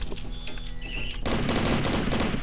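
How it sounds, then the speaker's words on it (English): Gunfire in the retro shooter Blood, a dense burst of rapid shots that swells loud and sustained in the second half, with no talking. "I'm shooting directly at him"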